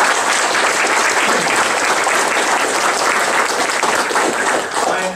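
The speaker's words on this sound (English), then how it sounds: "let's give her a round of applause" A large audience claps in sustained, dense applause at a talk event, loud and steady for several seconds with no break.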